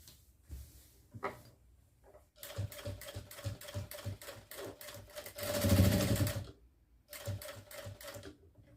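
A sewing machine stitches a bedsheet with gathered frills, running in repeated rapid bursts with short pauses between, fairly close and steady, with a faster stretch partway through.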